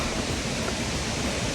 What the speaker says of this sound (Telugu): I'm gonna show you the beautiful falls.